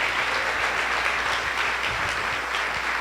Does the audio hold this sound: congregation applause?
yes